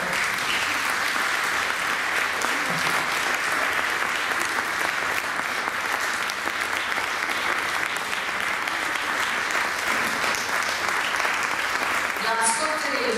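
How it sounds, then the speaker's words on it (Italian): A concert audience applauds a soprano at a New Year's concert in Baronissi, the clapping dense, steady and sustained throughout, with a few voices briefly audible near the end. "vi prego un grande applauso per il soprano"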